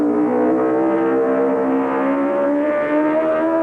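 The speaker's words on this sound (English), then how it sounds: "Listen to his senior bike at Craignabar." John Surtees' MV four-cylinder senior racing motorcycle at Craig-ny-Baa on the Isle of Man TT course, a loud sustained high-revving engine note holding steady with slight pitch wavering, alone without talk.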